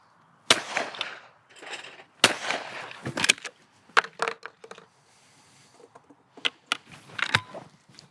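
Fausti XF4 clay shotgun firing at clay targets, with sharp, loud reports spaced irregularly across the span and fainter clicks and handling noises between them.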